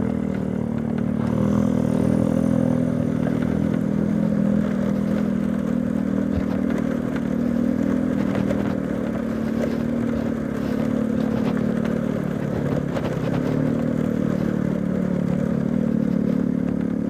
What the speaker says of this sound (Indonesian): bisa cepet ini pakai Mio karena jalannya makadam gini, nggak bisa ngegas cepet ya.